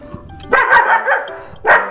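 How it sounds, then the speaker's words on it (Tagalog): A dog barks close by, first a burst of several rapid barks and then another single loud bark, sharp and prominent. "May aso. Hi dog."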